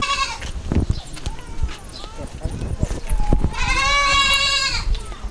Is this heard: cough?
no